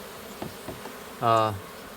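A single short burst of honeybee buzzing rises from a small five-frame nuc colony, close and clear against a quiet background.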